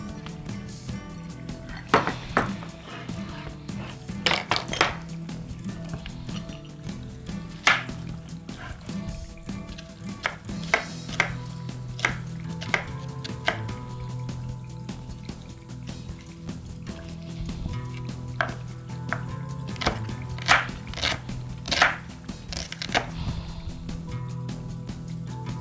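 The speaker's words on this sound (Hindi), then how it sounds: "मुझे प्याज और टमाटर चॉप करने हैं" Onions are chopped on a board in a home kitchen for chana chaat, with irregular knife taps and clicks over several seconds against a low background hum.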